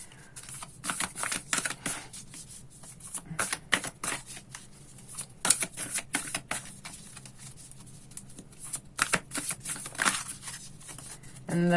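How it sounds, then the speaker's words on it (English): Tarot cards being shuffled by hand at a reading, a steady run of close, crisp riffling and slapping bursts with brief pauses between them and no voices. "so I'm going to keep shuffling."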